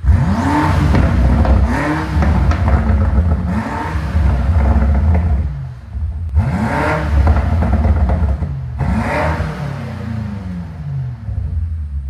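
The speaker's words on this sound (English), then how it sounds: "So my boy Jerry about to rev it right now." Loud, close revving comes from a BMW M8 Competition fitted with a catless downpipe and Eventuri intakes. Repeated throttle blips climb sharply and sag back into a gruff rumble, with a raspy, crackly edge and no speech.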